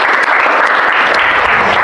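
A classroom of students claps together in a dense, steady burst of applause, close and loud, lasting a couple of seconds without speech.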